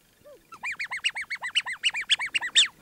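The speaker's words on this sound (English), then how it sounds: "Makes the usual rubber duck sounds." A Hello Kitty x Harrods rubber duck toy squeaks in a rapid run of about fifteen bright, close, even squeaks after one softer lead-in squeak, with no talking.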